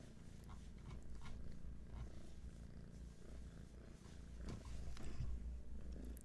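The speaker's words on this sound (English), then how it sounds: "So all of you can enjoy those purrs." Steady low rumbling purr from a cat held close, continuous and fairly loud, with soft rustling and small shifts in intensity throughout.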